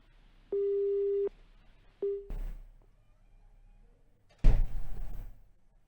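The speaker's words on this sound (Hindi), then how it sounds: "फोन डिस्कनेक्ट हुआ है" A phone line cuts off with a steady electronic disconnect tone that beeps twice, followed by a couple of sharp clunks and rustling handling noises nearby.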